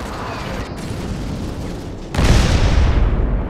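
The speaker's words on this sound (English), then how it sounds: "Airstrike incoming." Airstrike blasts and gunfire in the video game Modern Combat 5: steady battle noise, then a loud, sustained rumbling explosion bursts in and fills the last second and a half.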